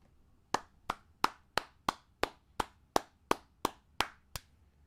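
Eleven crisp, evenly spaced hand claps in a steady slow rhythm, close and fairly quiet, with nothing else heard.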